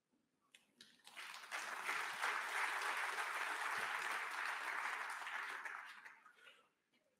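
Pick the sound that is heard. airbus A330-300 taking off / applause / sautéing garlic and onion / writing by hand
applause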